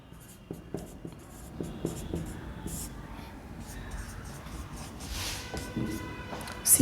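Chalk or marker scratches and taps against a board during a science lesson on the digestive system, short rhythmic strokes close by in a quiet room with faint breathy murmurs.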